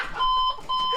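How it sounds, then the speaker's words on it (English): An alarm clock rings in two loud, close electronic beeping bursts with a brief gap between them. "Fuck my... my fucking alarm!"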